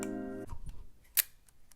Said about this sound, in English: The shutter is so gentle and quiet.